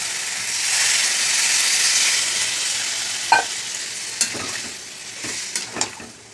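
Masala of onion paste and tomato sizzles and hisses steadily in a pan, a close, continuous frying sound with a few sharp scrapes and clinks of stirring toward the end, no one speaking.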